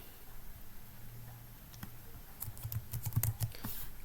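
Keys clatter on a computer keyboard in a quiet room, a few sparse taps at first, then a quick burst of typing near the end, fairly close and with no talk.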